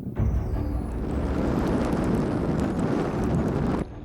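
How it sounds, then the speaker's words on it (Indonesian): Strong wind at sea buffets a fishing boat near Simeulue, a loud, steady rushing roar filling the air for a few seconds before cutting off abruptly. "Angin sudah semakin kencang"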